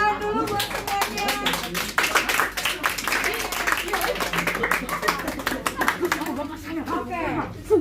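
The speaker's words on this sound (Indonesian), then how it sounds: "Ya, tepuk tangan dulu buat semuanya." Clapping from an audience at a web programming training session, a steady patter of many hands close by, mixed with some speech over the top.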